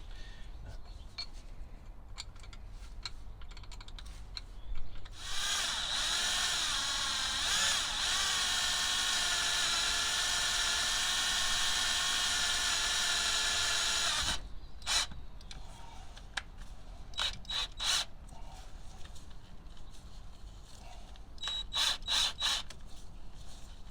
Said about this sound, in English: So we had to drill the new hole